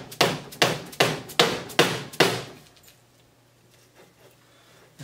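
A hammer taps six times in an even rhythm on a part of an Early Ford banjo being rebuilt, crisp, close, metallic knocks followed by near silence.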